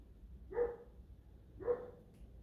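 A neighbour's dog barks outside, two single barks about a second apart, heard at a moderate distance over a low background hum.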